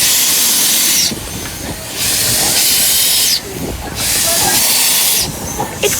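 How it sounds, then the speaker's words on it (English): A miniature steam train running around Marine Lake in Rhyl, North Wales, giving loud rushing hisses of steam in repeated bursts with short quieter gaps between them, up close. "The miniature steam train goes all around Marine Lake and takes about 15 minutes."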